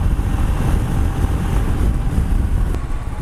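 Royal Enfield Himalayan motorcycle cruising at around 100 to 110 km/h, with steady, loud wind roar buffeting the microphone and a low engine rumble underneath, continuous throughout with no talking.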